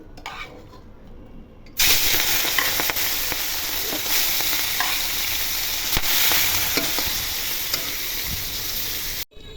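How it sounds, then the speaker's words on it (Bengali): Shrimp coated in turmeric and salt hit hot oil with a sudden loud sizzle after a quiet start. The hiss holds steady, with occasional spatula clinks and pan knocks, and then stops sharply. "তেল গরম হয়ে গেছে, এখন চিংড়ি মাছগুলো ভেজে নিব।"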